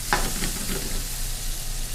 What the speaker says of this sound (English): let's fry this up.